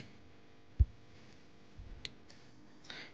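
Computer mouse clicks, a few sparse light taps scattered across a quiet background, one heavier low thump early on, close and alone with no talking.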